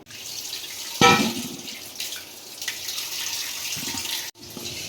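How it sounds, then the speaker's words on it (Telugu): Fish are washed with salt in water in a home kitchen: a sudden splash, then running, sloshing water and light drips, fairly close and steady, with no talking. "సాల్ట్ వేసుకొని ఇలా వాష్ చేసుకుంటున్నాం"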